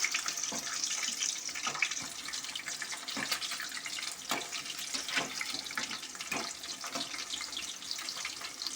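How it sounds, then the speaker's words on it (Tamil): Chicken bonda deep-frying in oil on low heat, a steady soft bubbling fizz with scattered pops and crackles throughout, fairly quiet and with no voices. "இது அப்படியே சிம்லேயே ஒரு 5 நிமிஷம் பொரிய விடுங்க"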